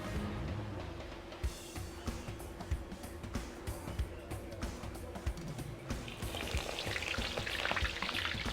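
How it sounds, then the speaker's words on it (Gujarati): Undhiyu ingredients fry in hot oil over a low flame, giving a dense, steady sizzle with scattered pops and crackles. The frying is close and continuous, with faint kitchen clatter in the background. "હવે એને આપણે તળી લઈએ"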